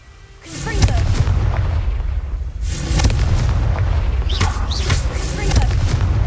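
The Confringo fire spell in Hogwarts Legacy lands as a loud, booming blast with explosive rumble, followed by further heavy impacts and sustained low roaring, close and dominant.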